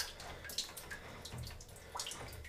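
Water running and trickling out of a domestic boiler as the diverter is tilted during a blocked heat exchanger repair, a steady close splashing flow with a few brief clicks and knocks.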